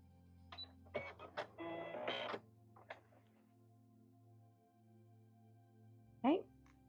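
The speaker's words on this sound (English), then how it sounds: "I'm just using a long straight stitch." A home sewing machine bastes a long straight stitch through apron fabric in short mechanical bursts of rapid stitching, quiet and close, separated by pauses with a low hum underneath.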